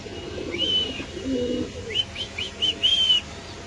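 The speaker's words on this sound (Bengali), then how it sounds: "ড্রাগনের ডাক দেখেন ভাই, এত সুন্দর কবুতর" Dragon breed pigeon at a pigeon farm, a few soft low coos followed by a series of thin rising whistles, close and fairly faint against a steady background murmur.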